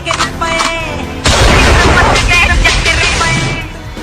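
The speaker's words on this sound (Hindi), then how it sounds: "अर्थी के साथ फायरिंग का वीडियो किया पोस्ट" Gunshots fired into the air during a funeral procession in a village, a loud burst of rapid cracks that lingers with outdoor rumble, preceded by a few quieter sounds.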